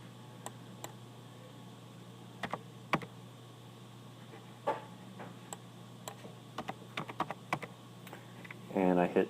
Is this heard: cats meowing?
no